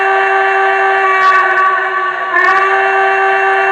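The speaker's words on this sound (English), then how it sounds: "Very haunting whistle on that. Sort of like a hybrid hooter." Steady, loud locomotive whistle with a haunting, hybrid hooter-style chord, sounding continuously with a slight break and swell partway through.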